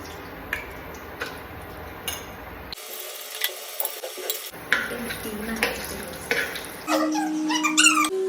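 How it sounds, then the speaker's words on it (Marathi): Batter dropped into a pan of oil to check the heat gives a crackling sizzle, mixed with scraping and clinking of a utensil against the pan in a home kitchen. "मी तेल गरम झालं आहे का हे बघण्यासाठी ना अशी टाकते"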